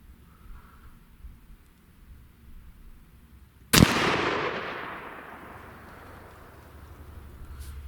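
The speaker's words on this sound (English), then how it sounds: "I'm gonna shoot this group and then I'll adjust." A single loud gunshot from a CVA Scout V2 takedown rifle in .300 Blackout fires outdoors at a steel target, a sharp crack followed by a long, fading rumble that rolls away over several seconds.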